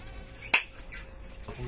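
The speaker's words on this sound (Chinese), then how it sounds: "但是这个蚊子确实很身手很敏捷" A mosquito whines faintly at night, with a thin, wavering buzz close to the ear under a quiet room hum, broken by a sharp slap and a softer tap later on.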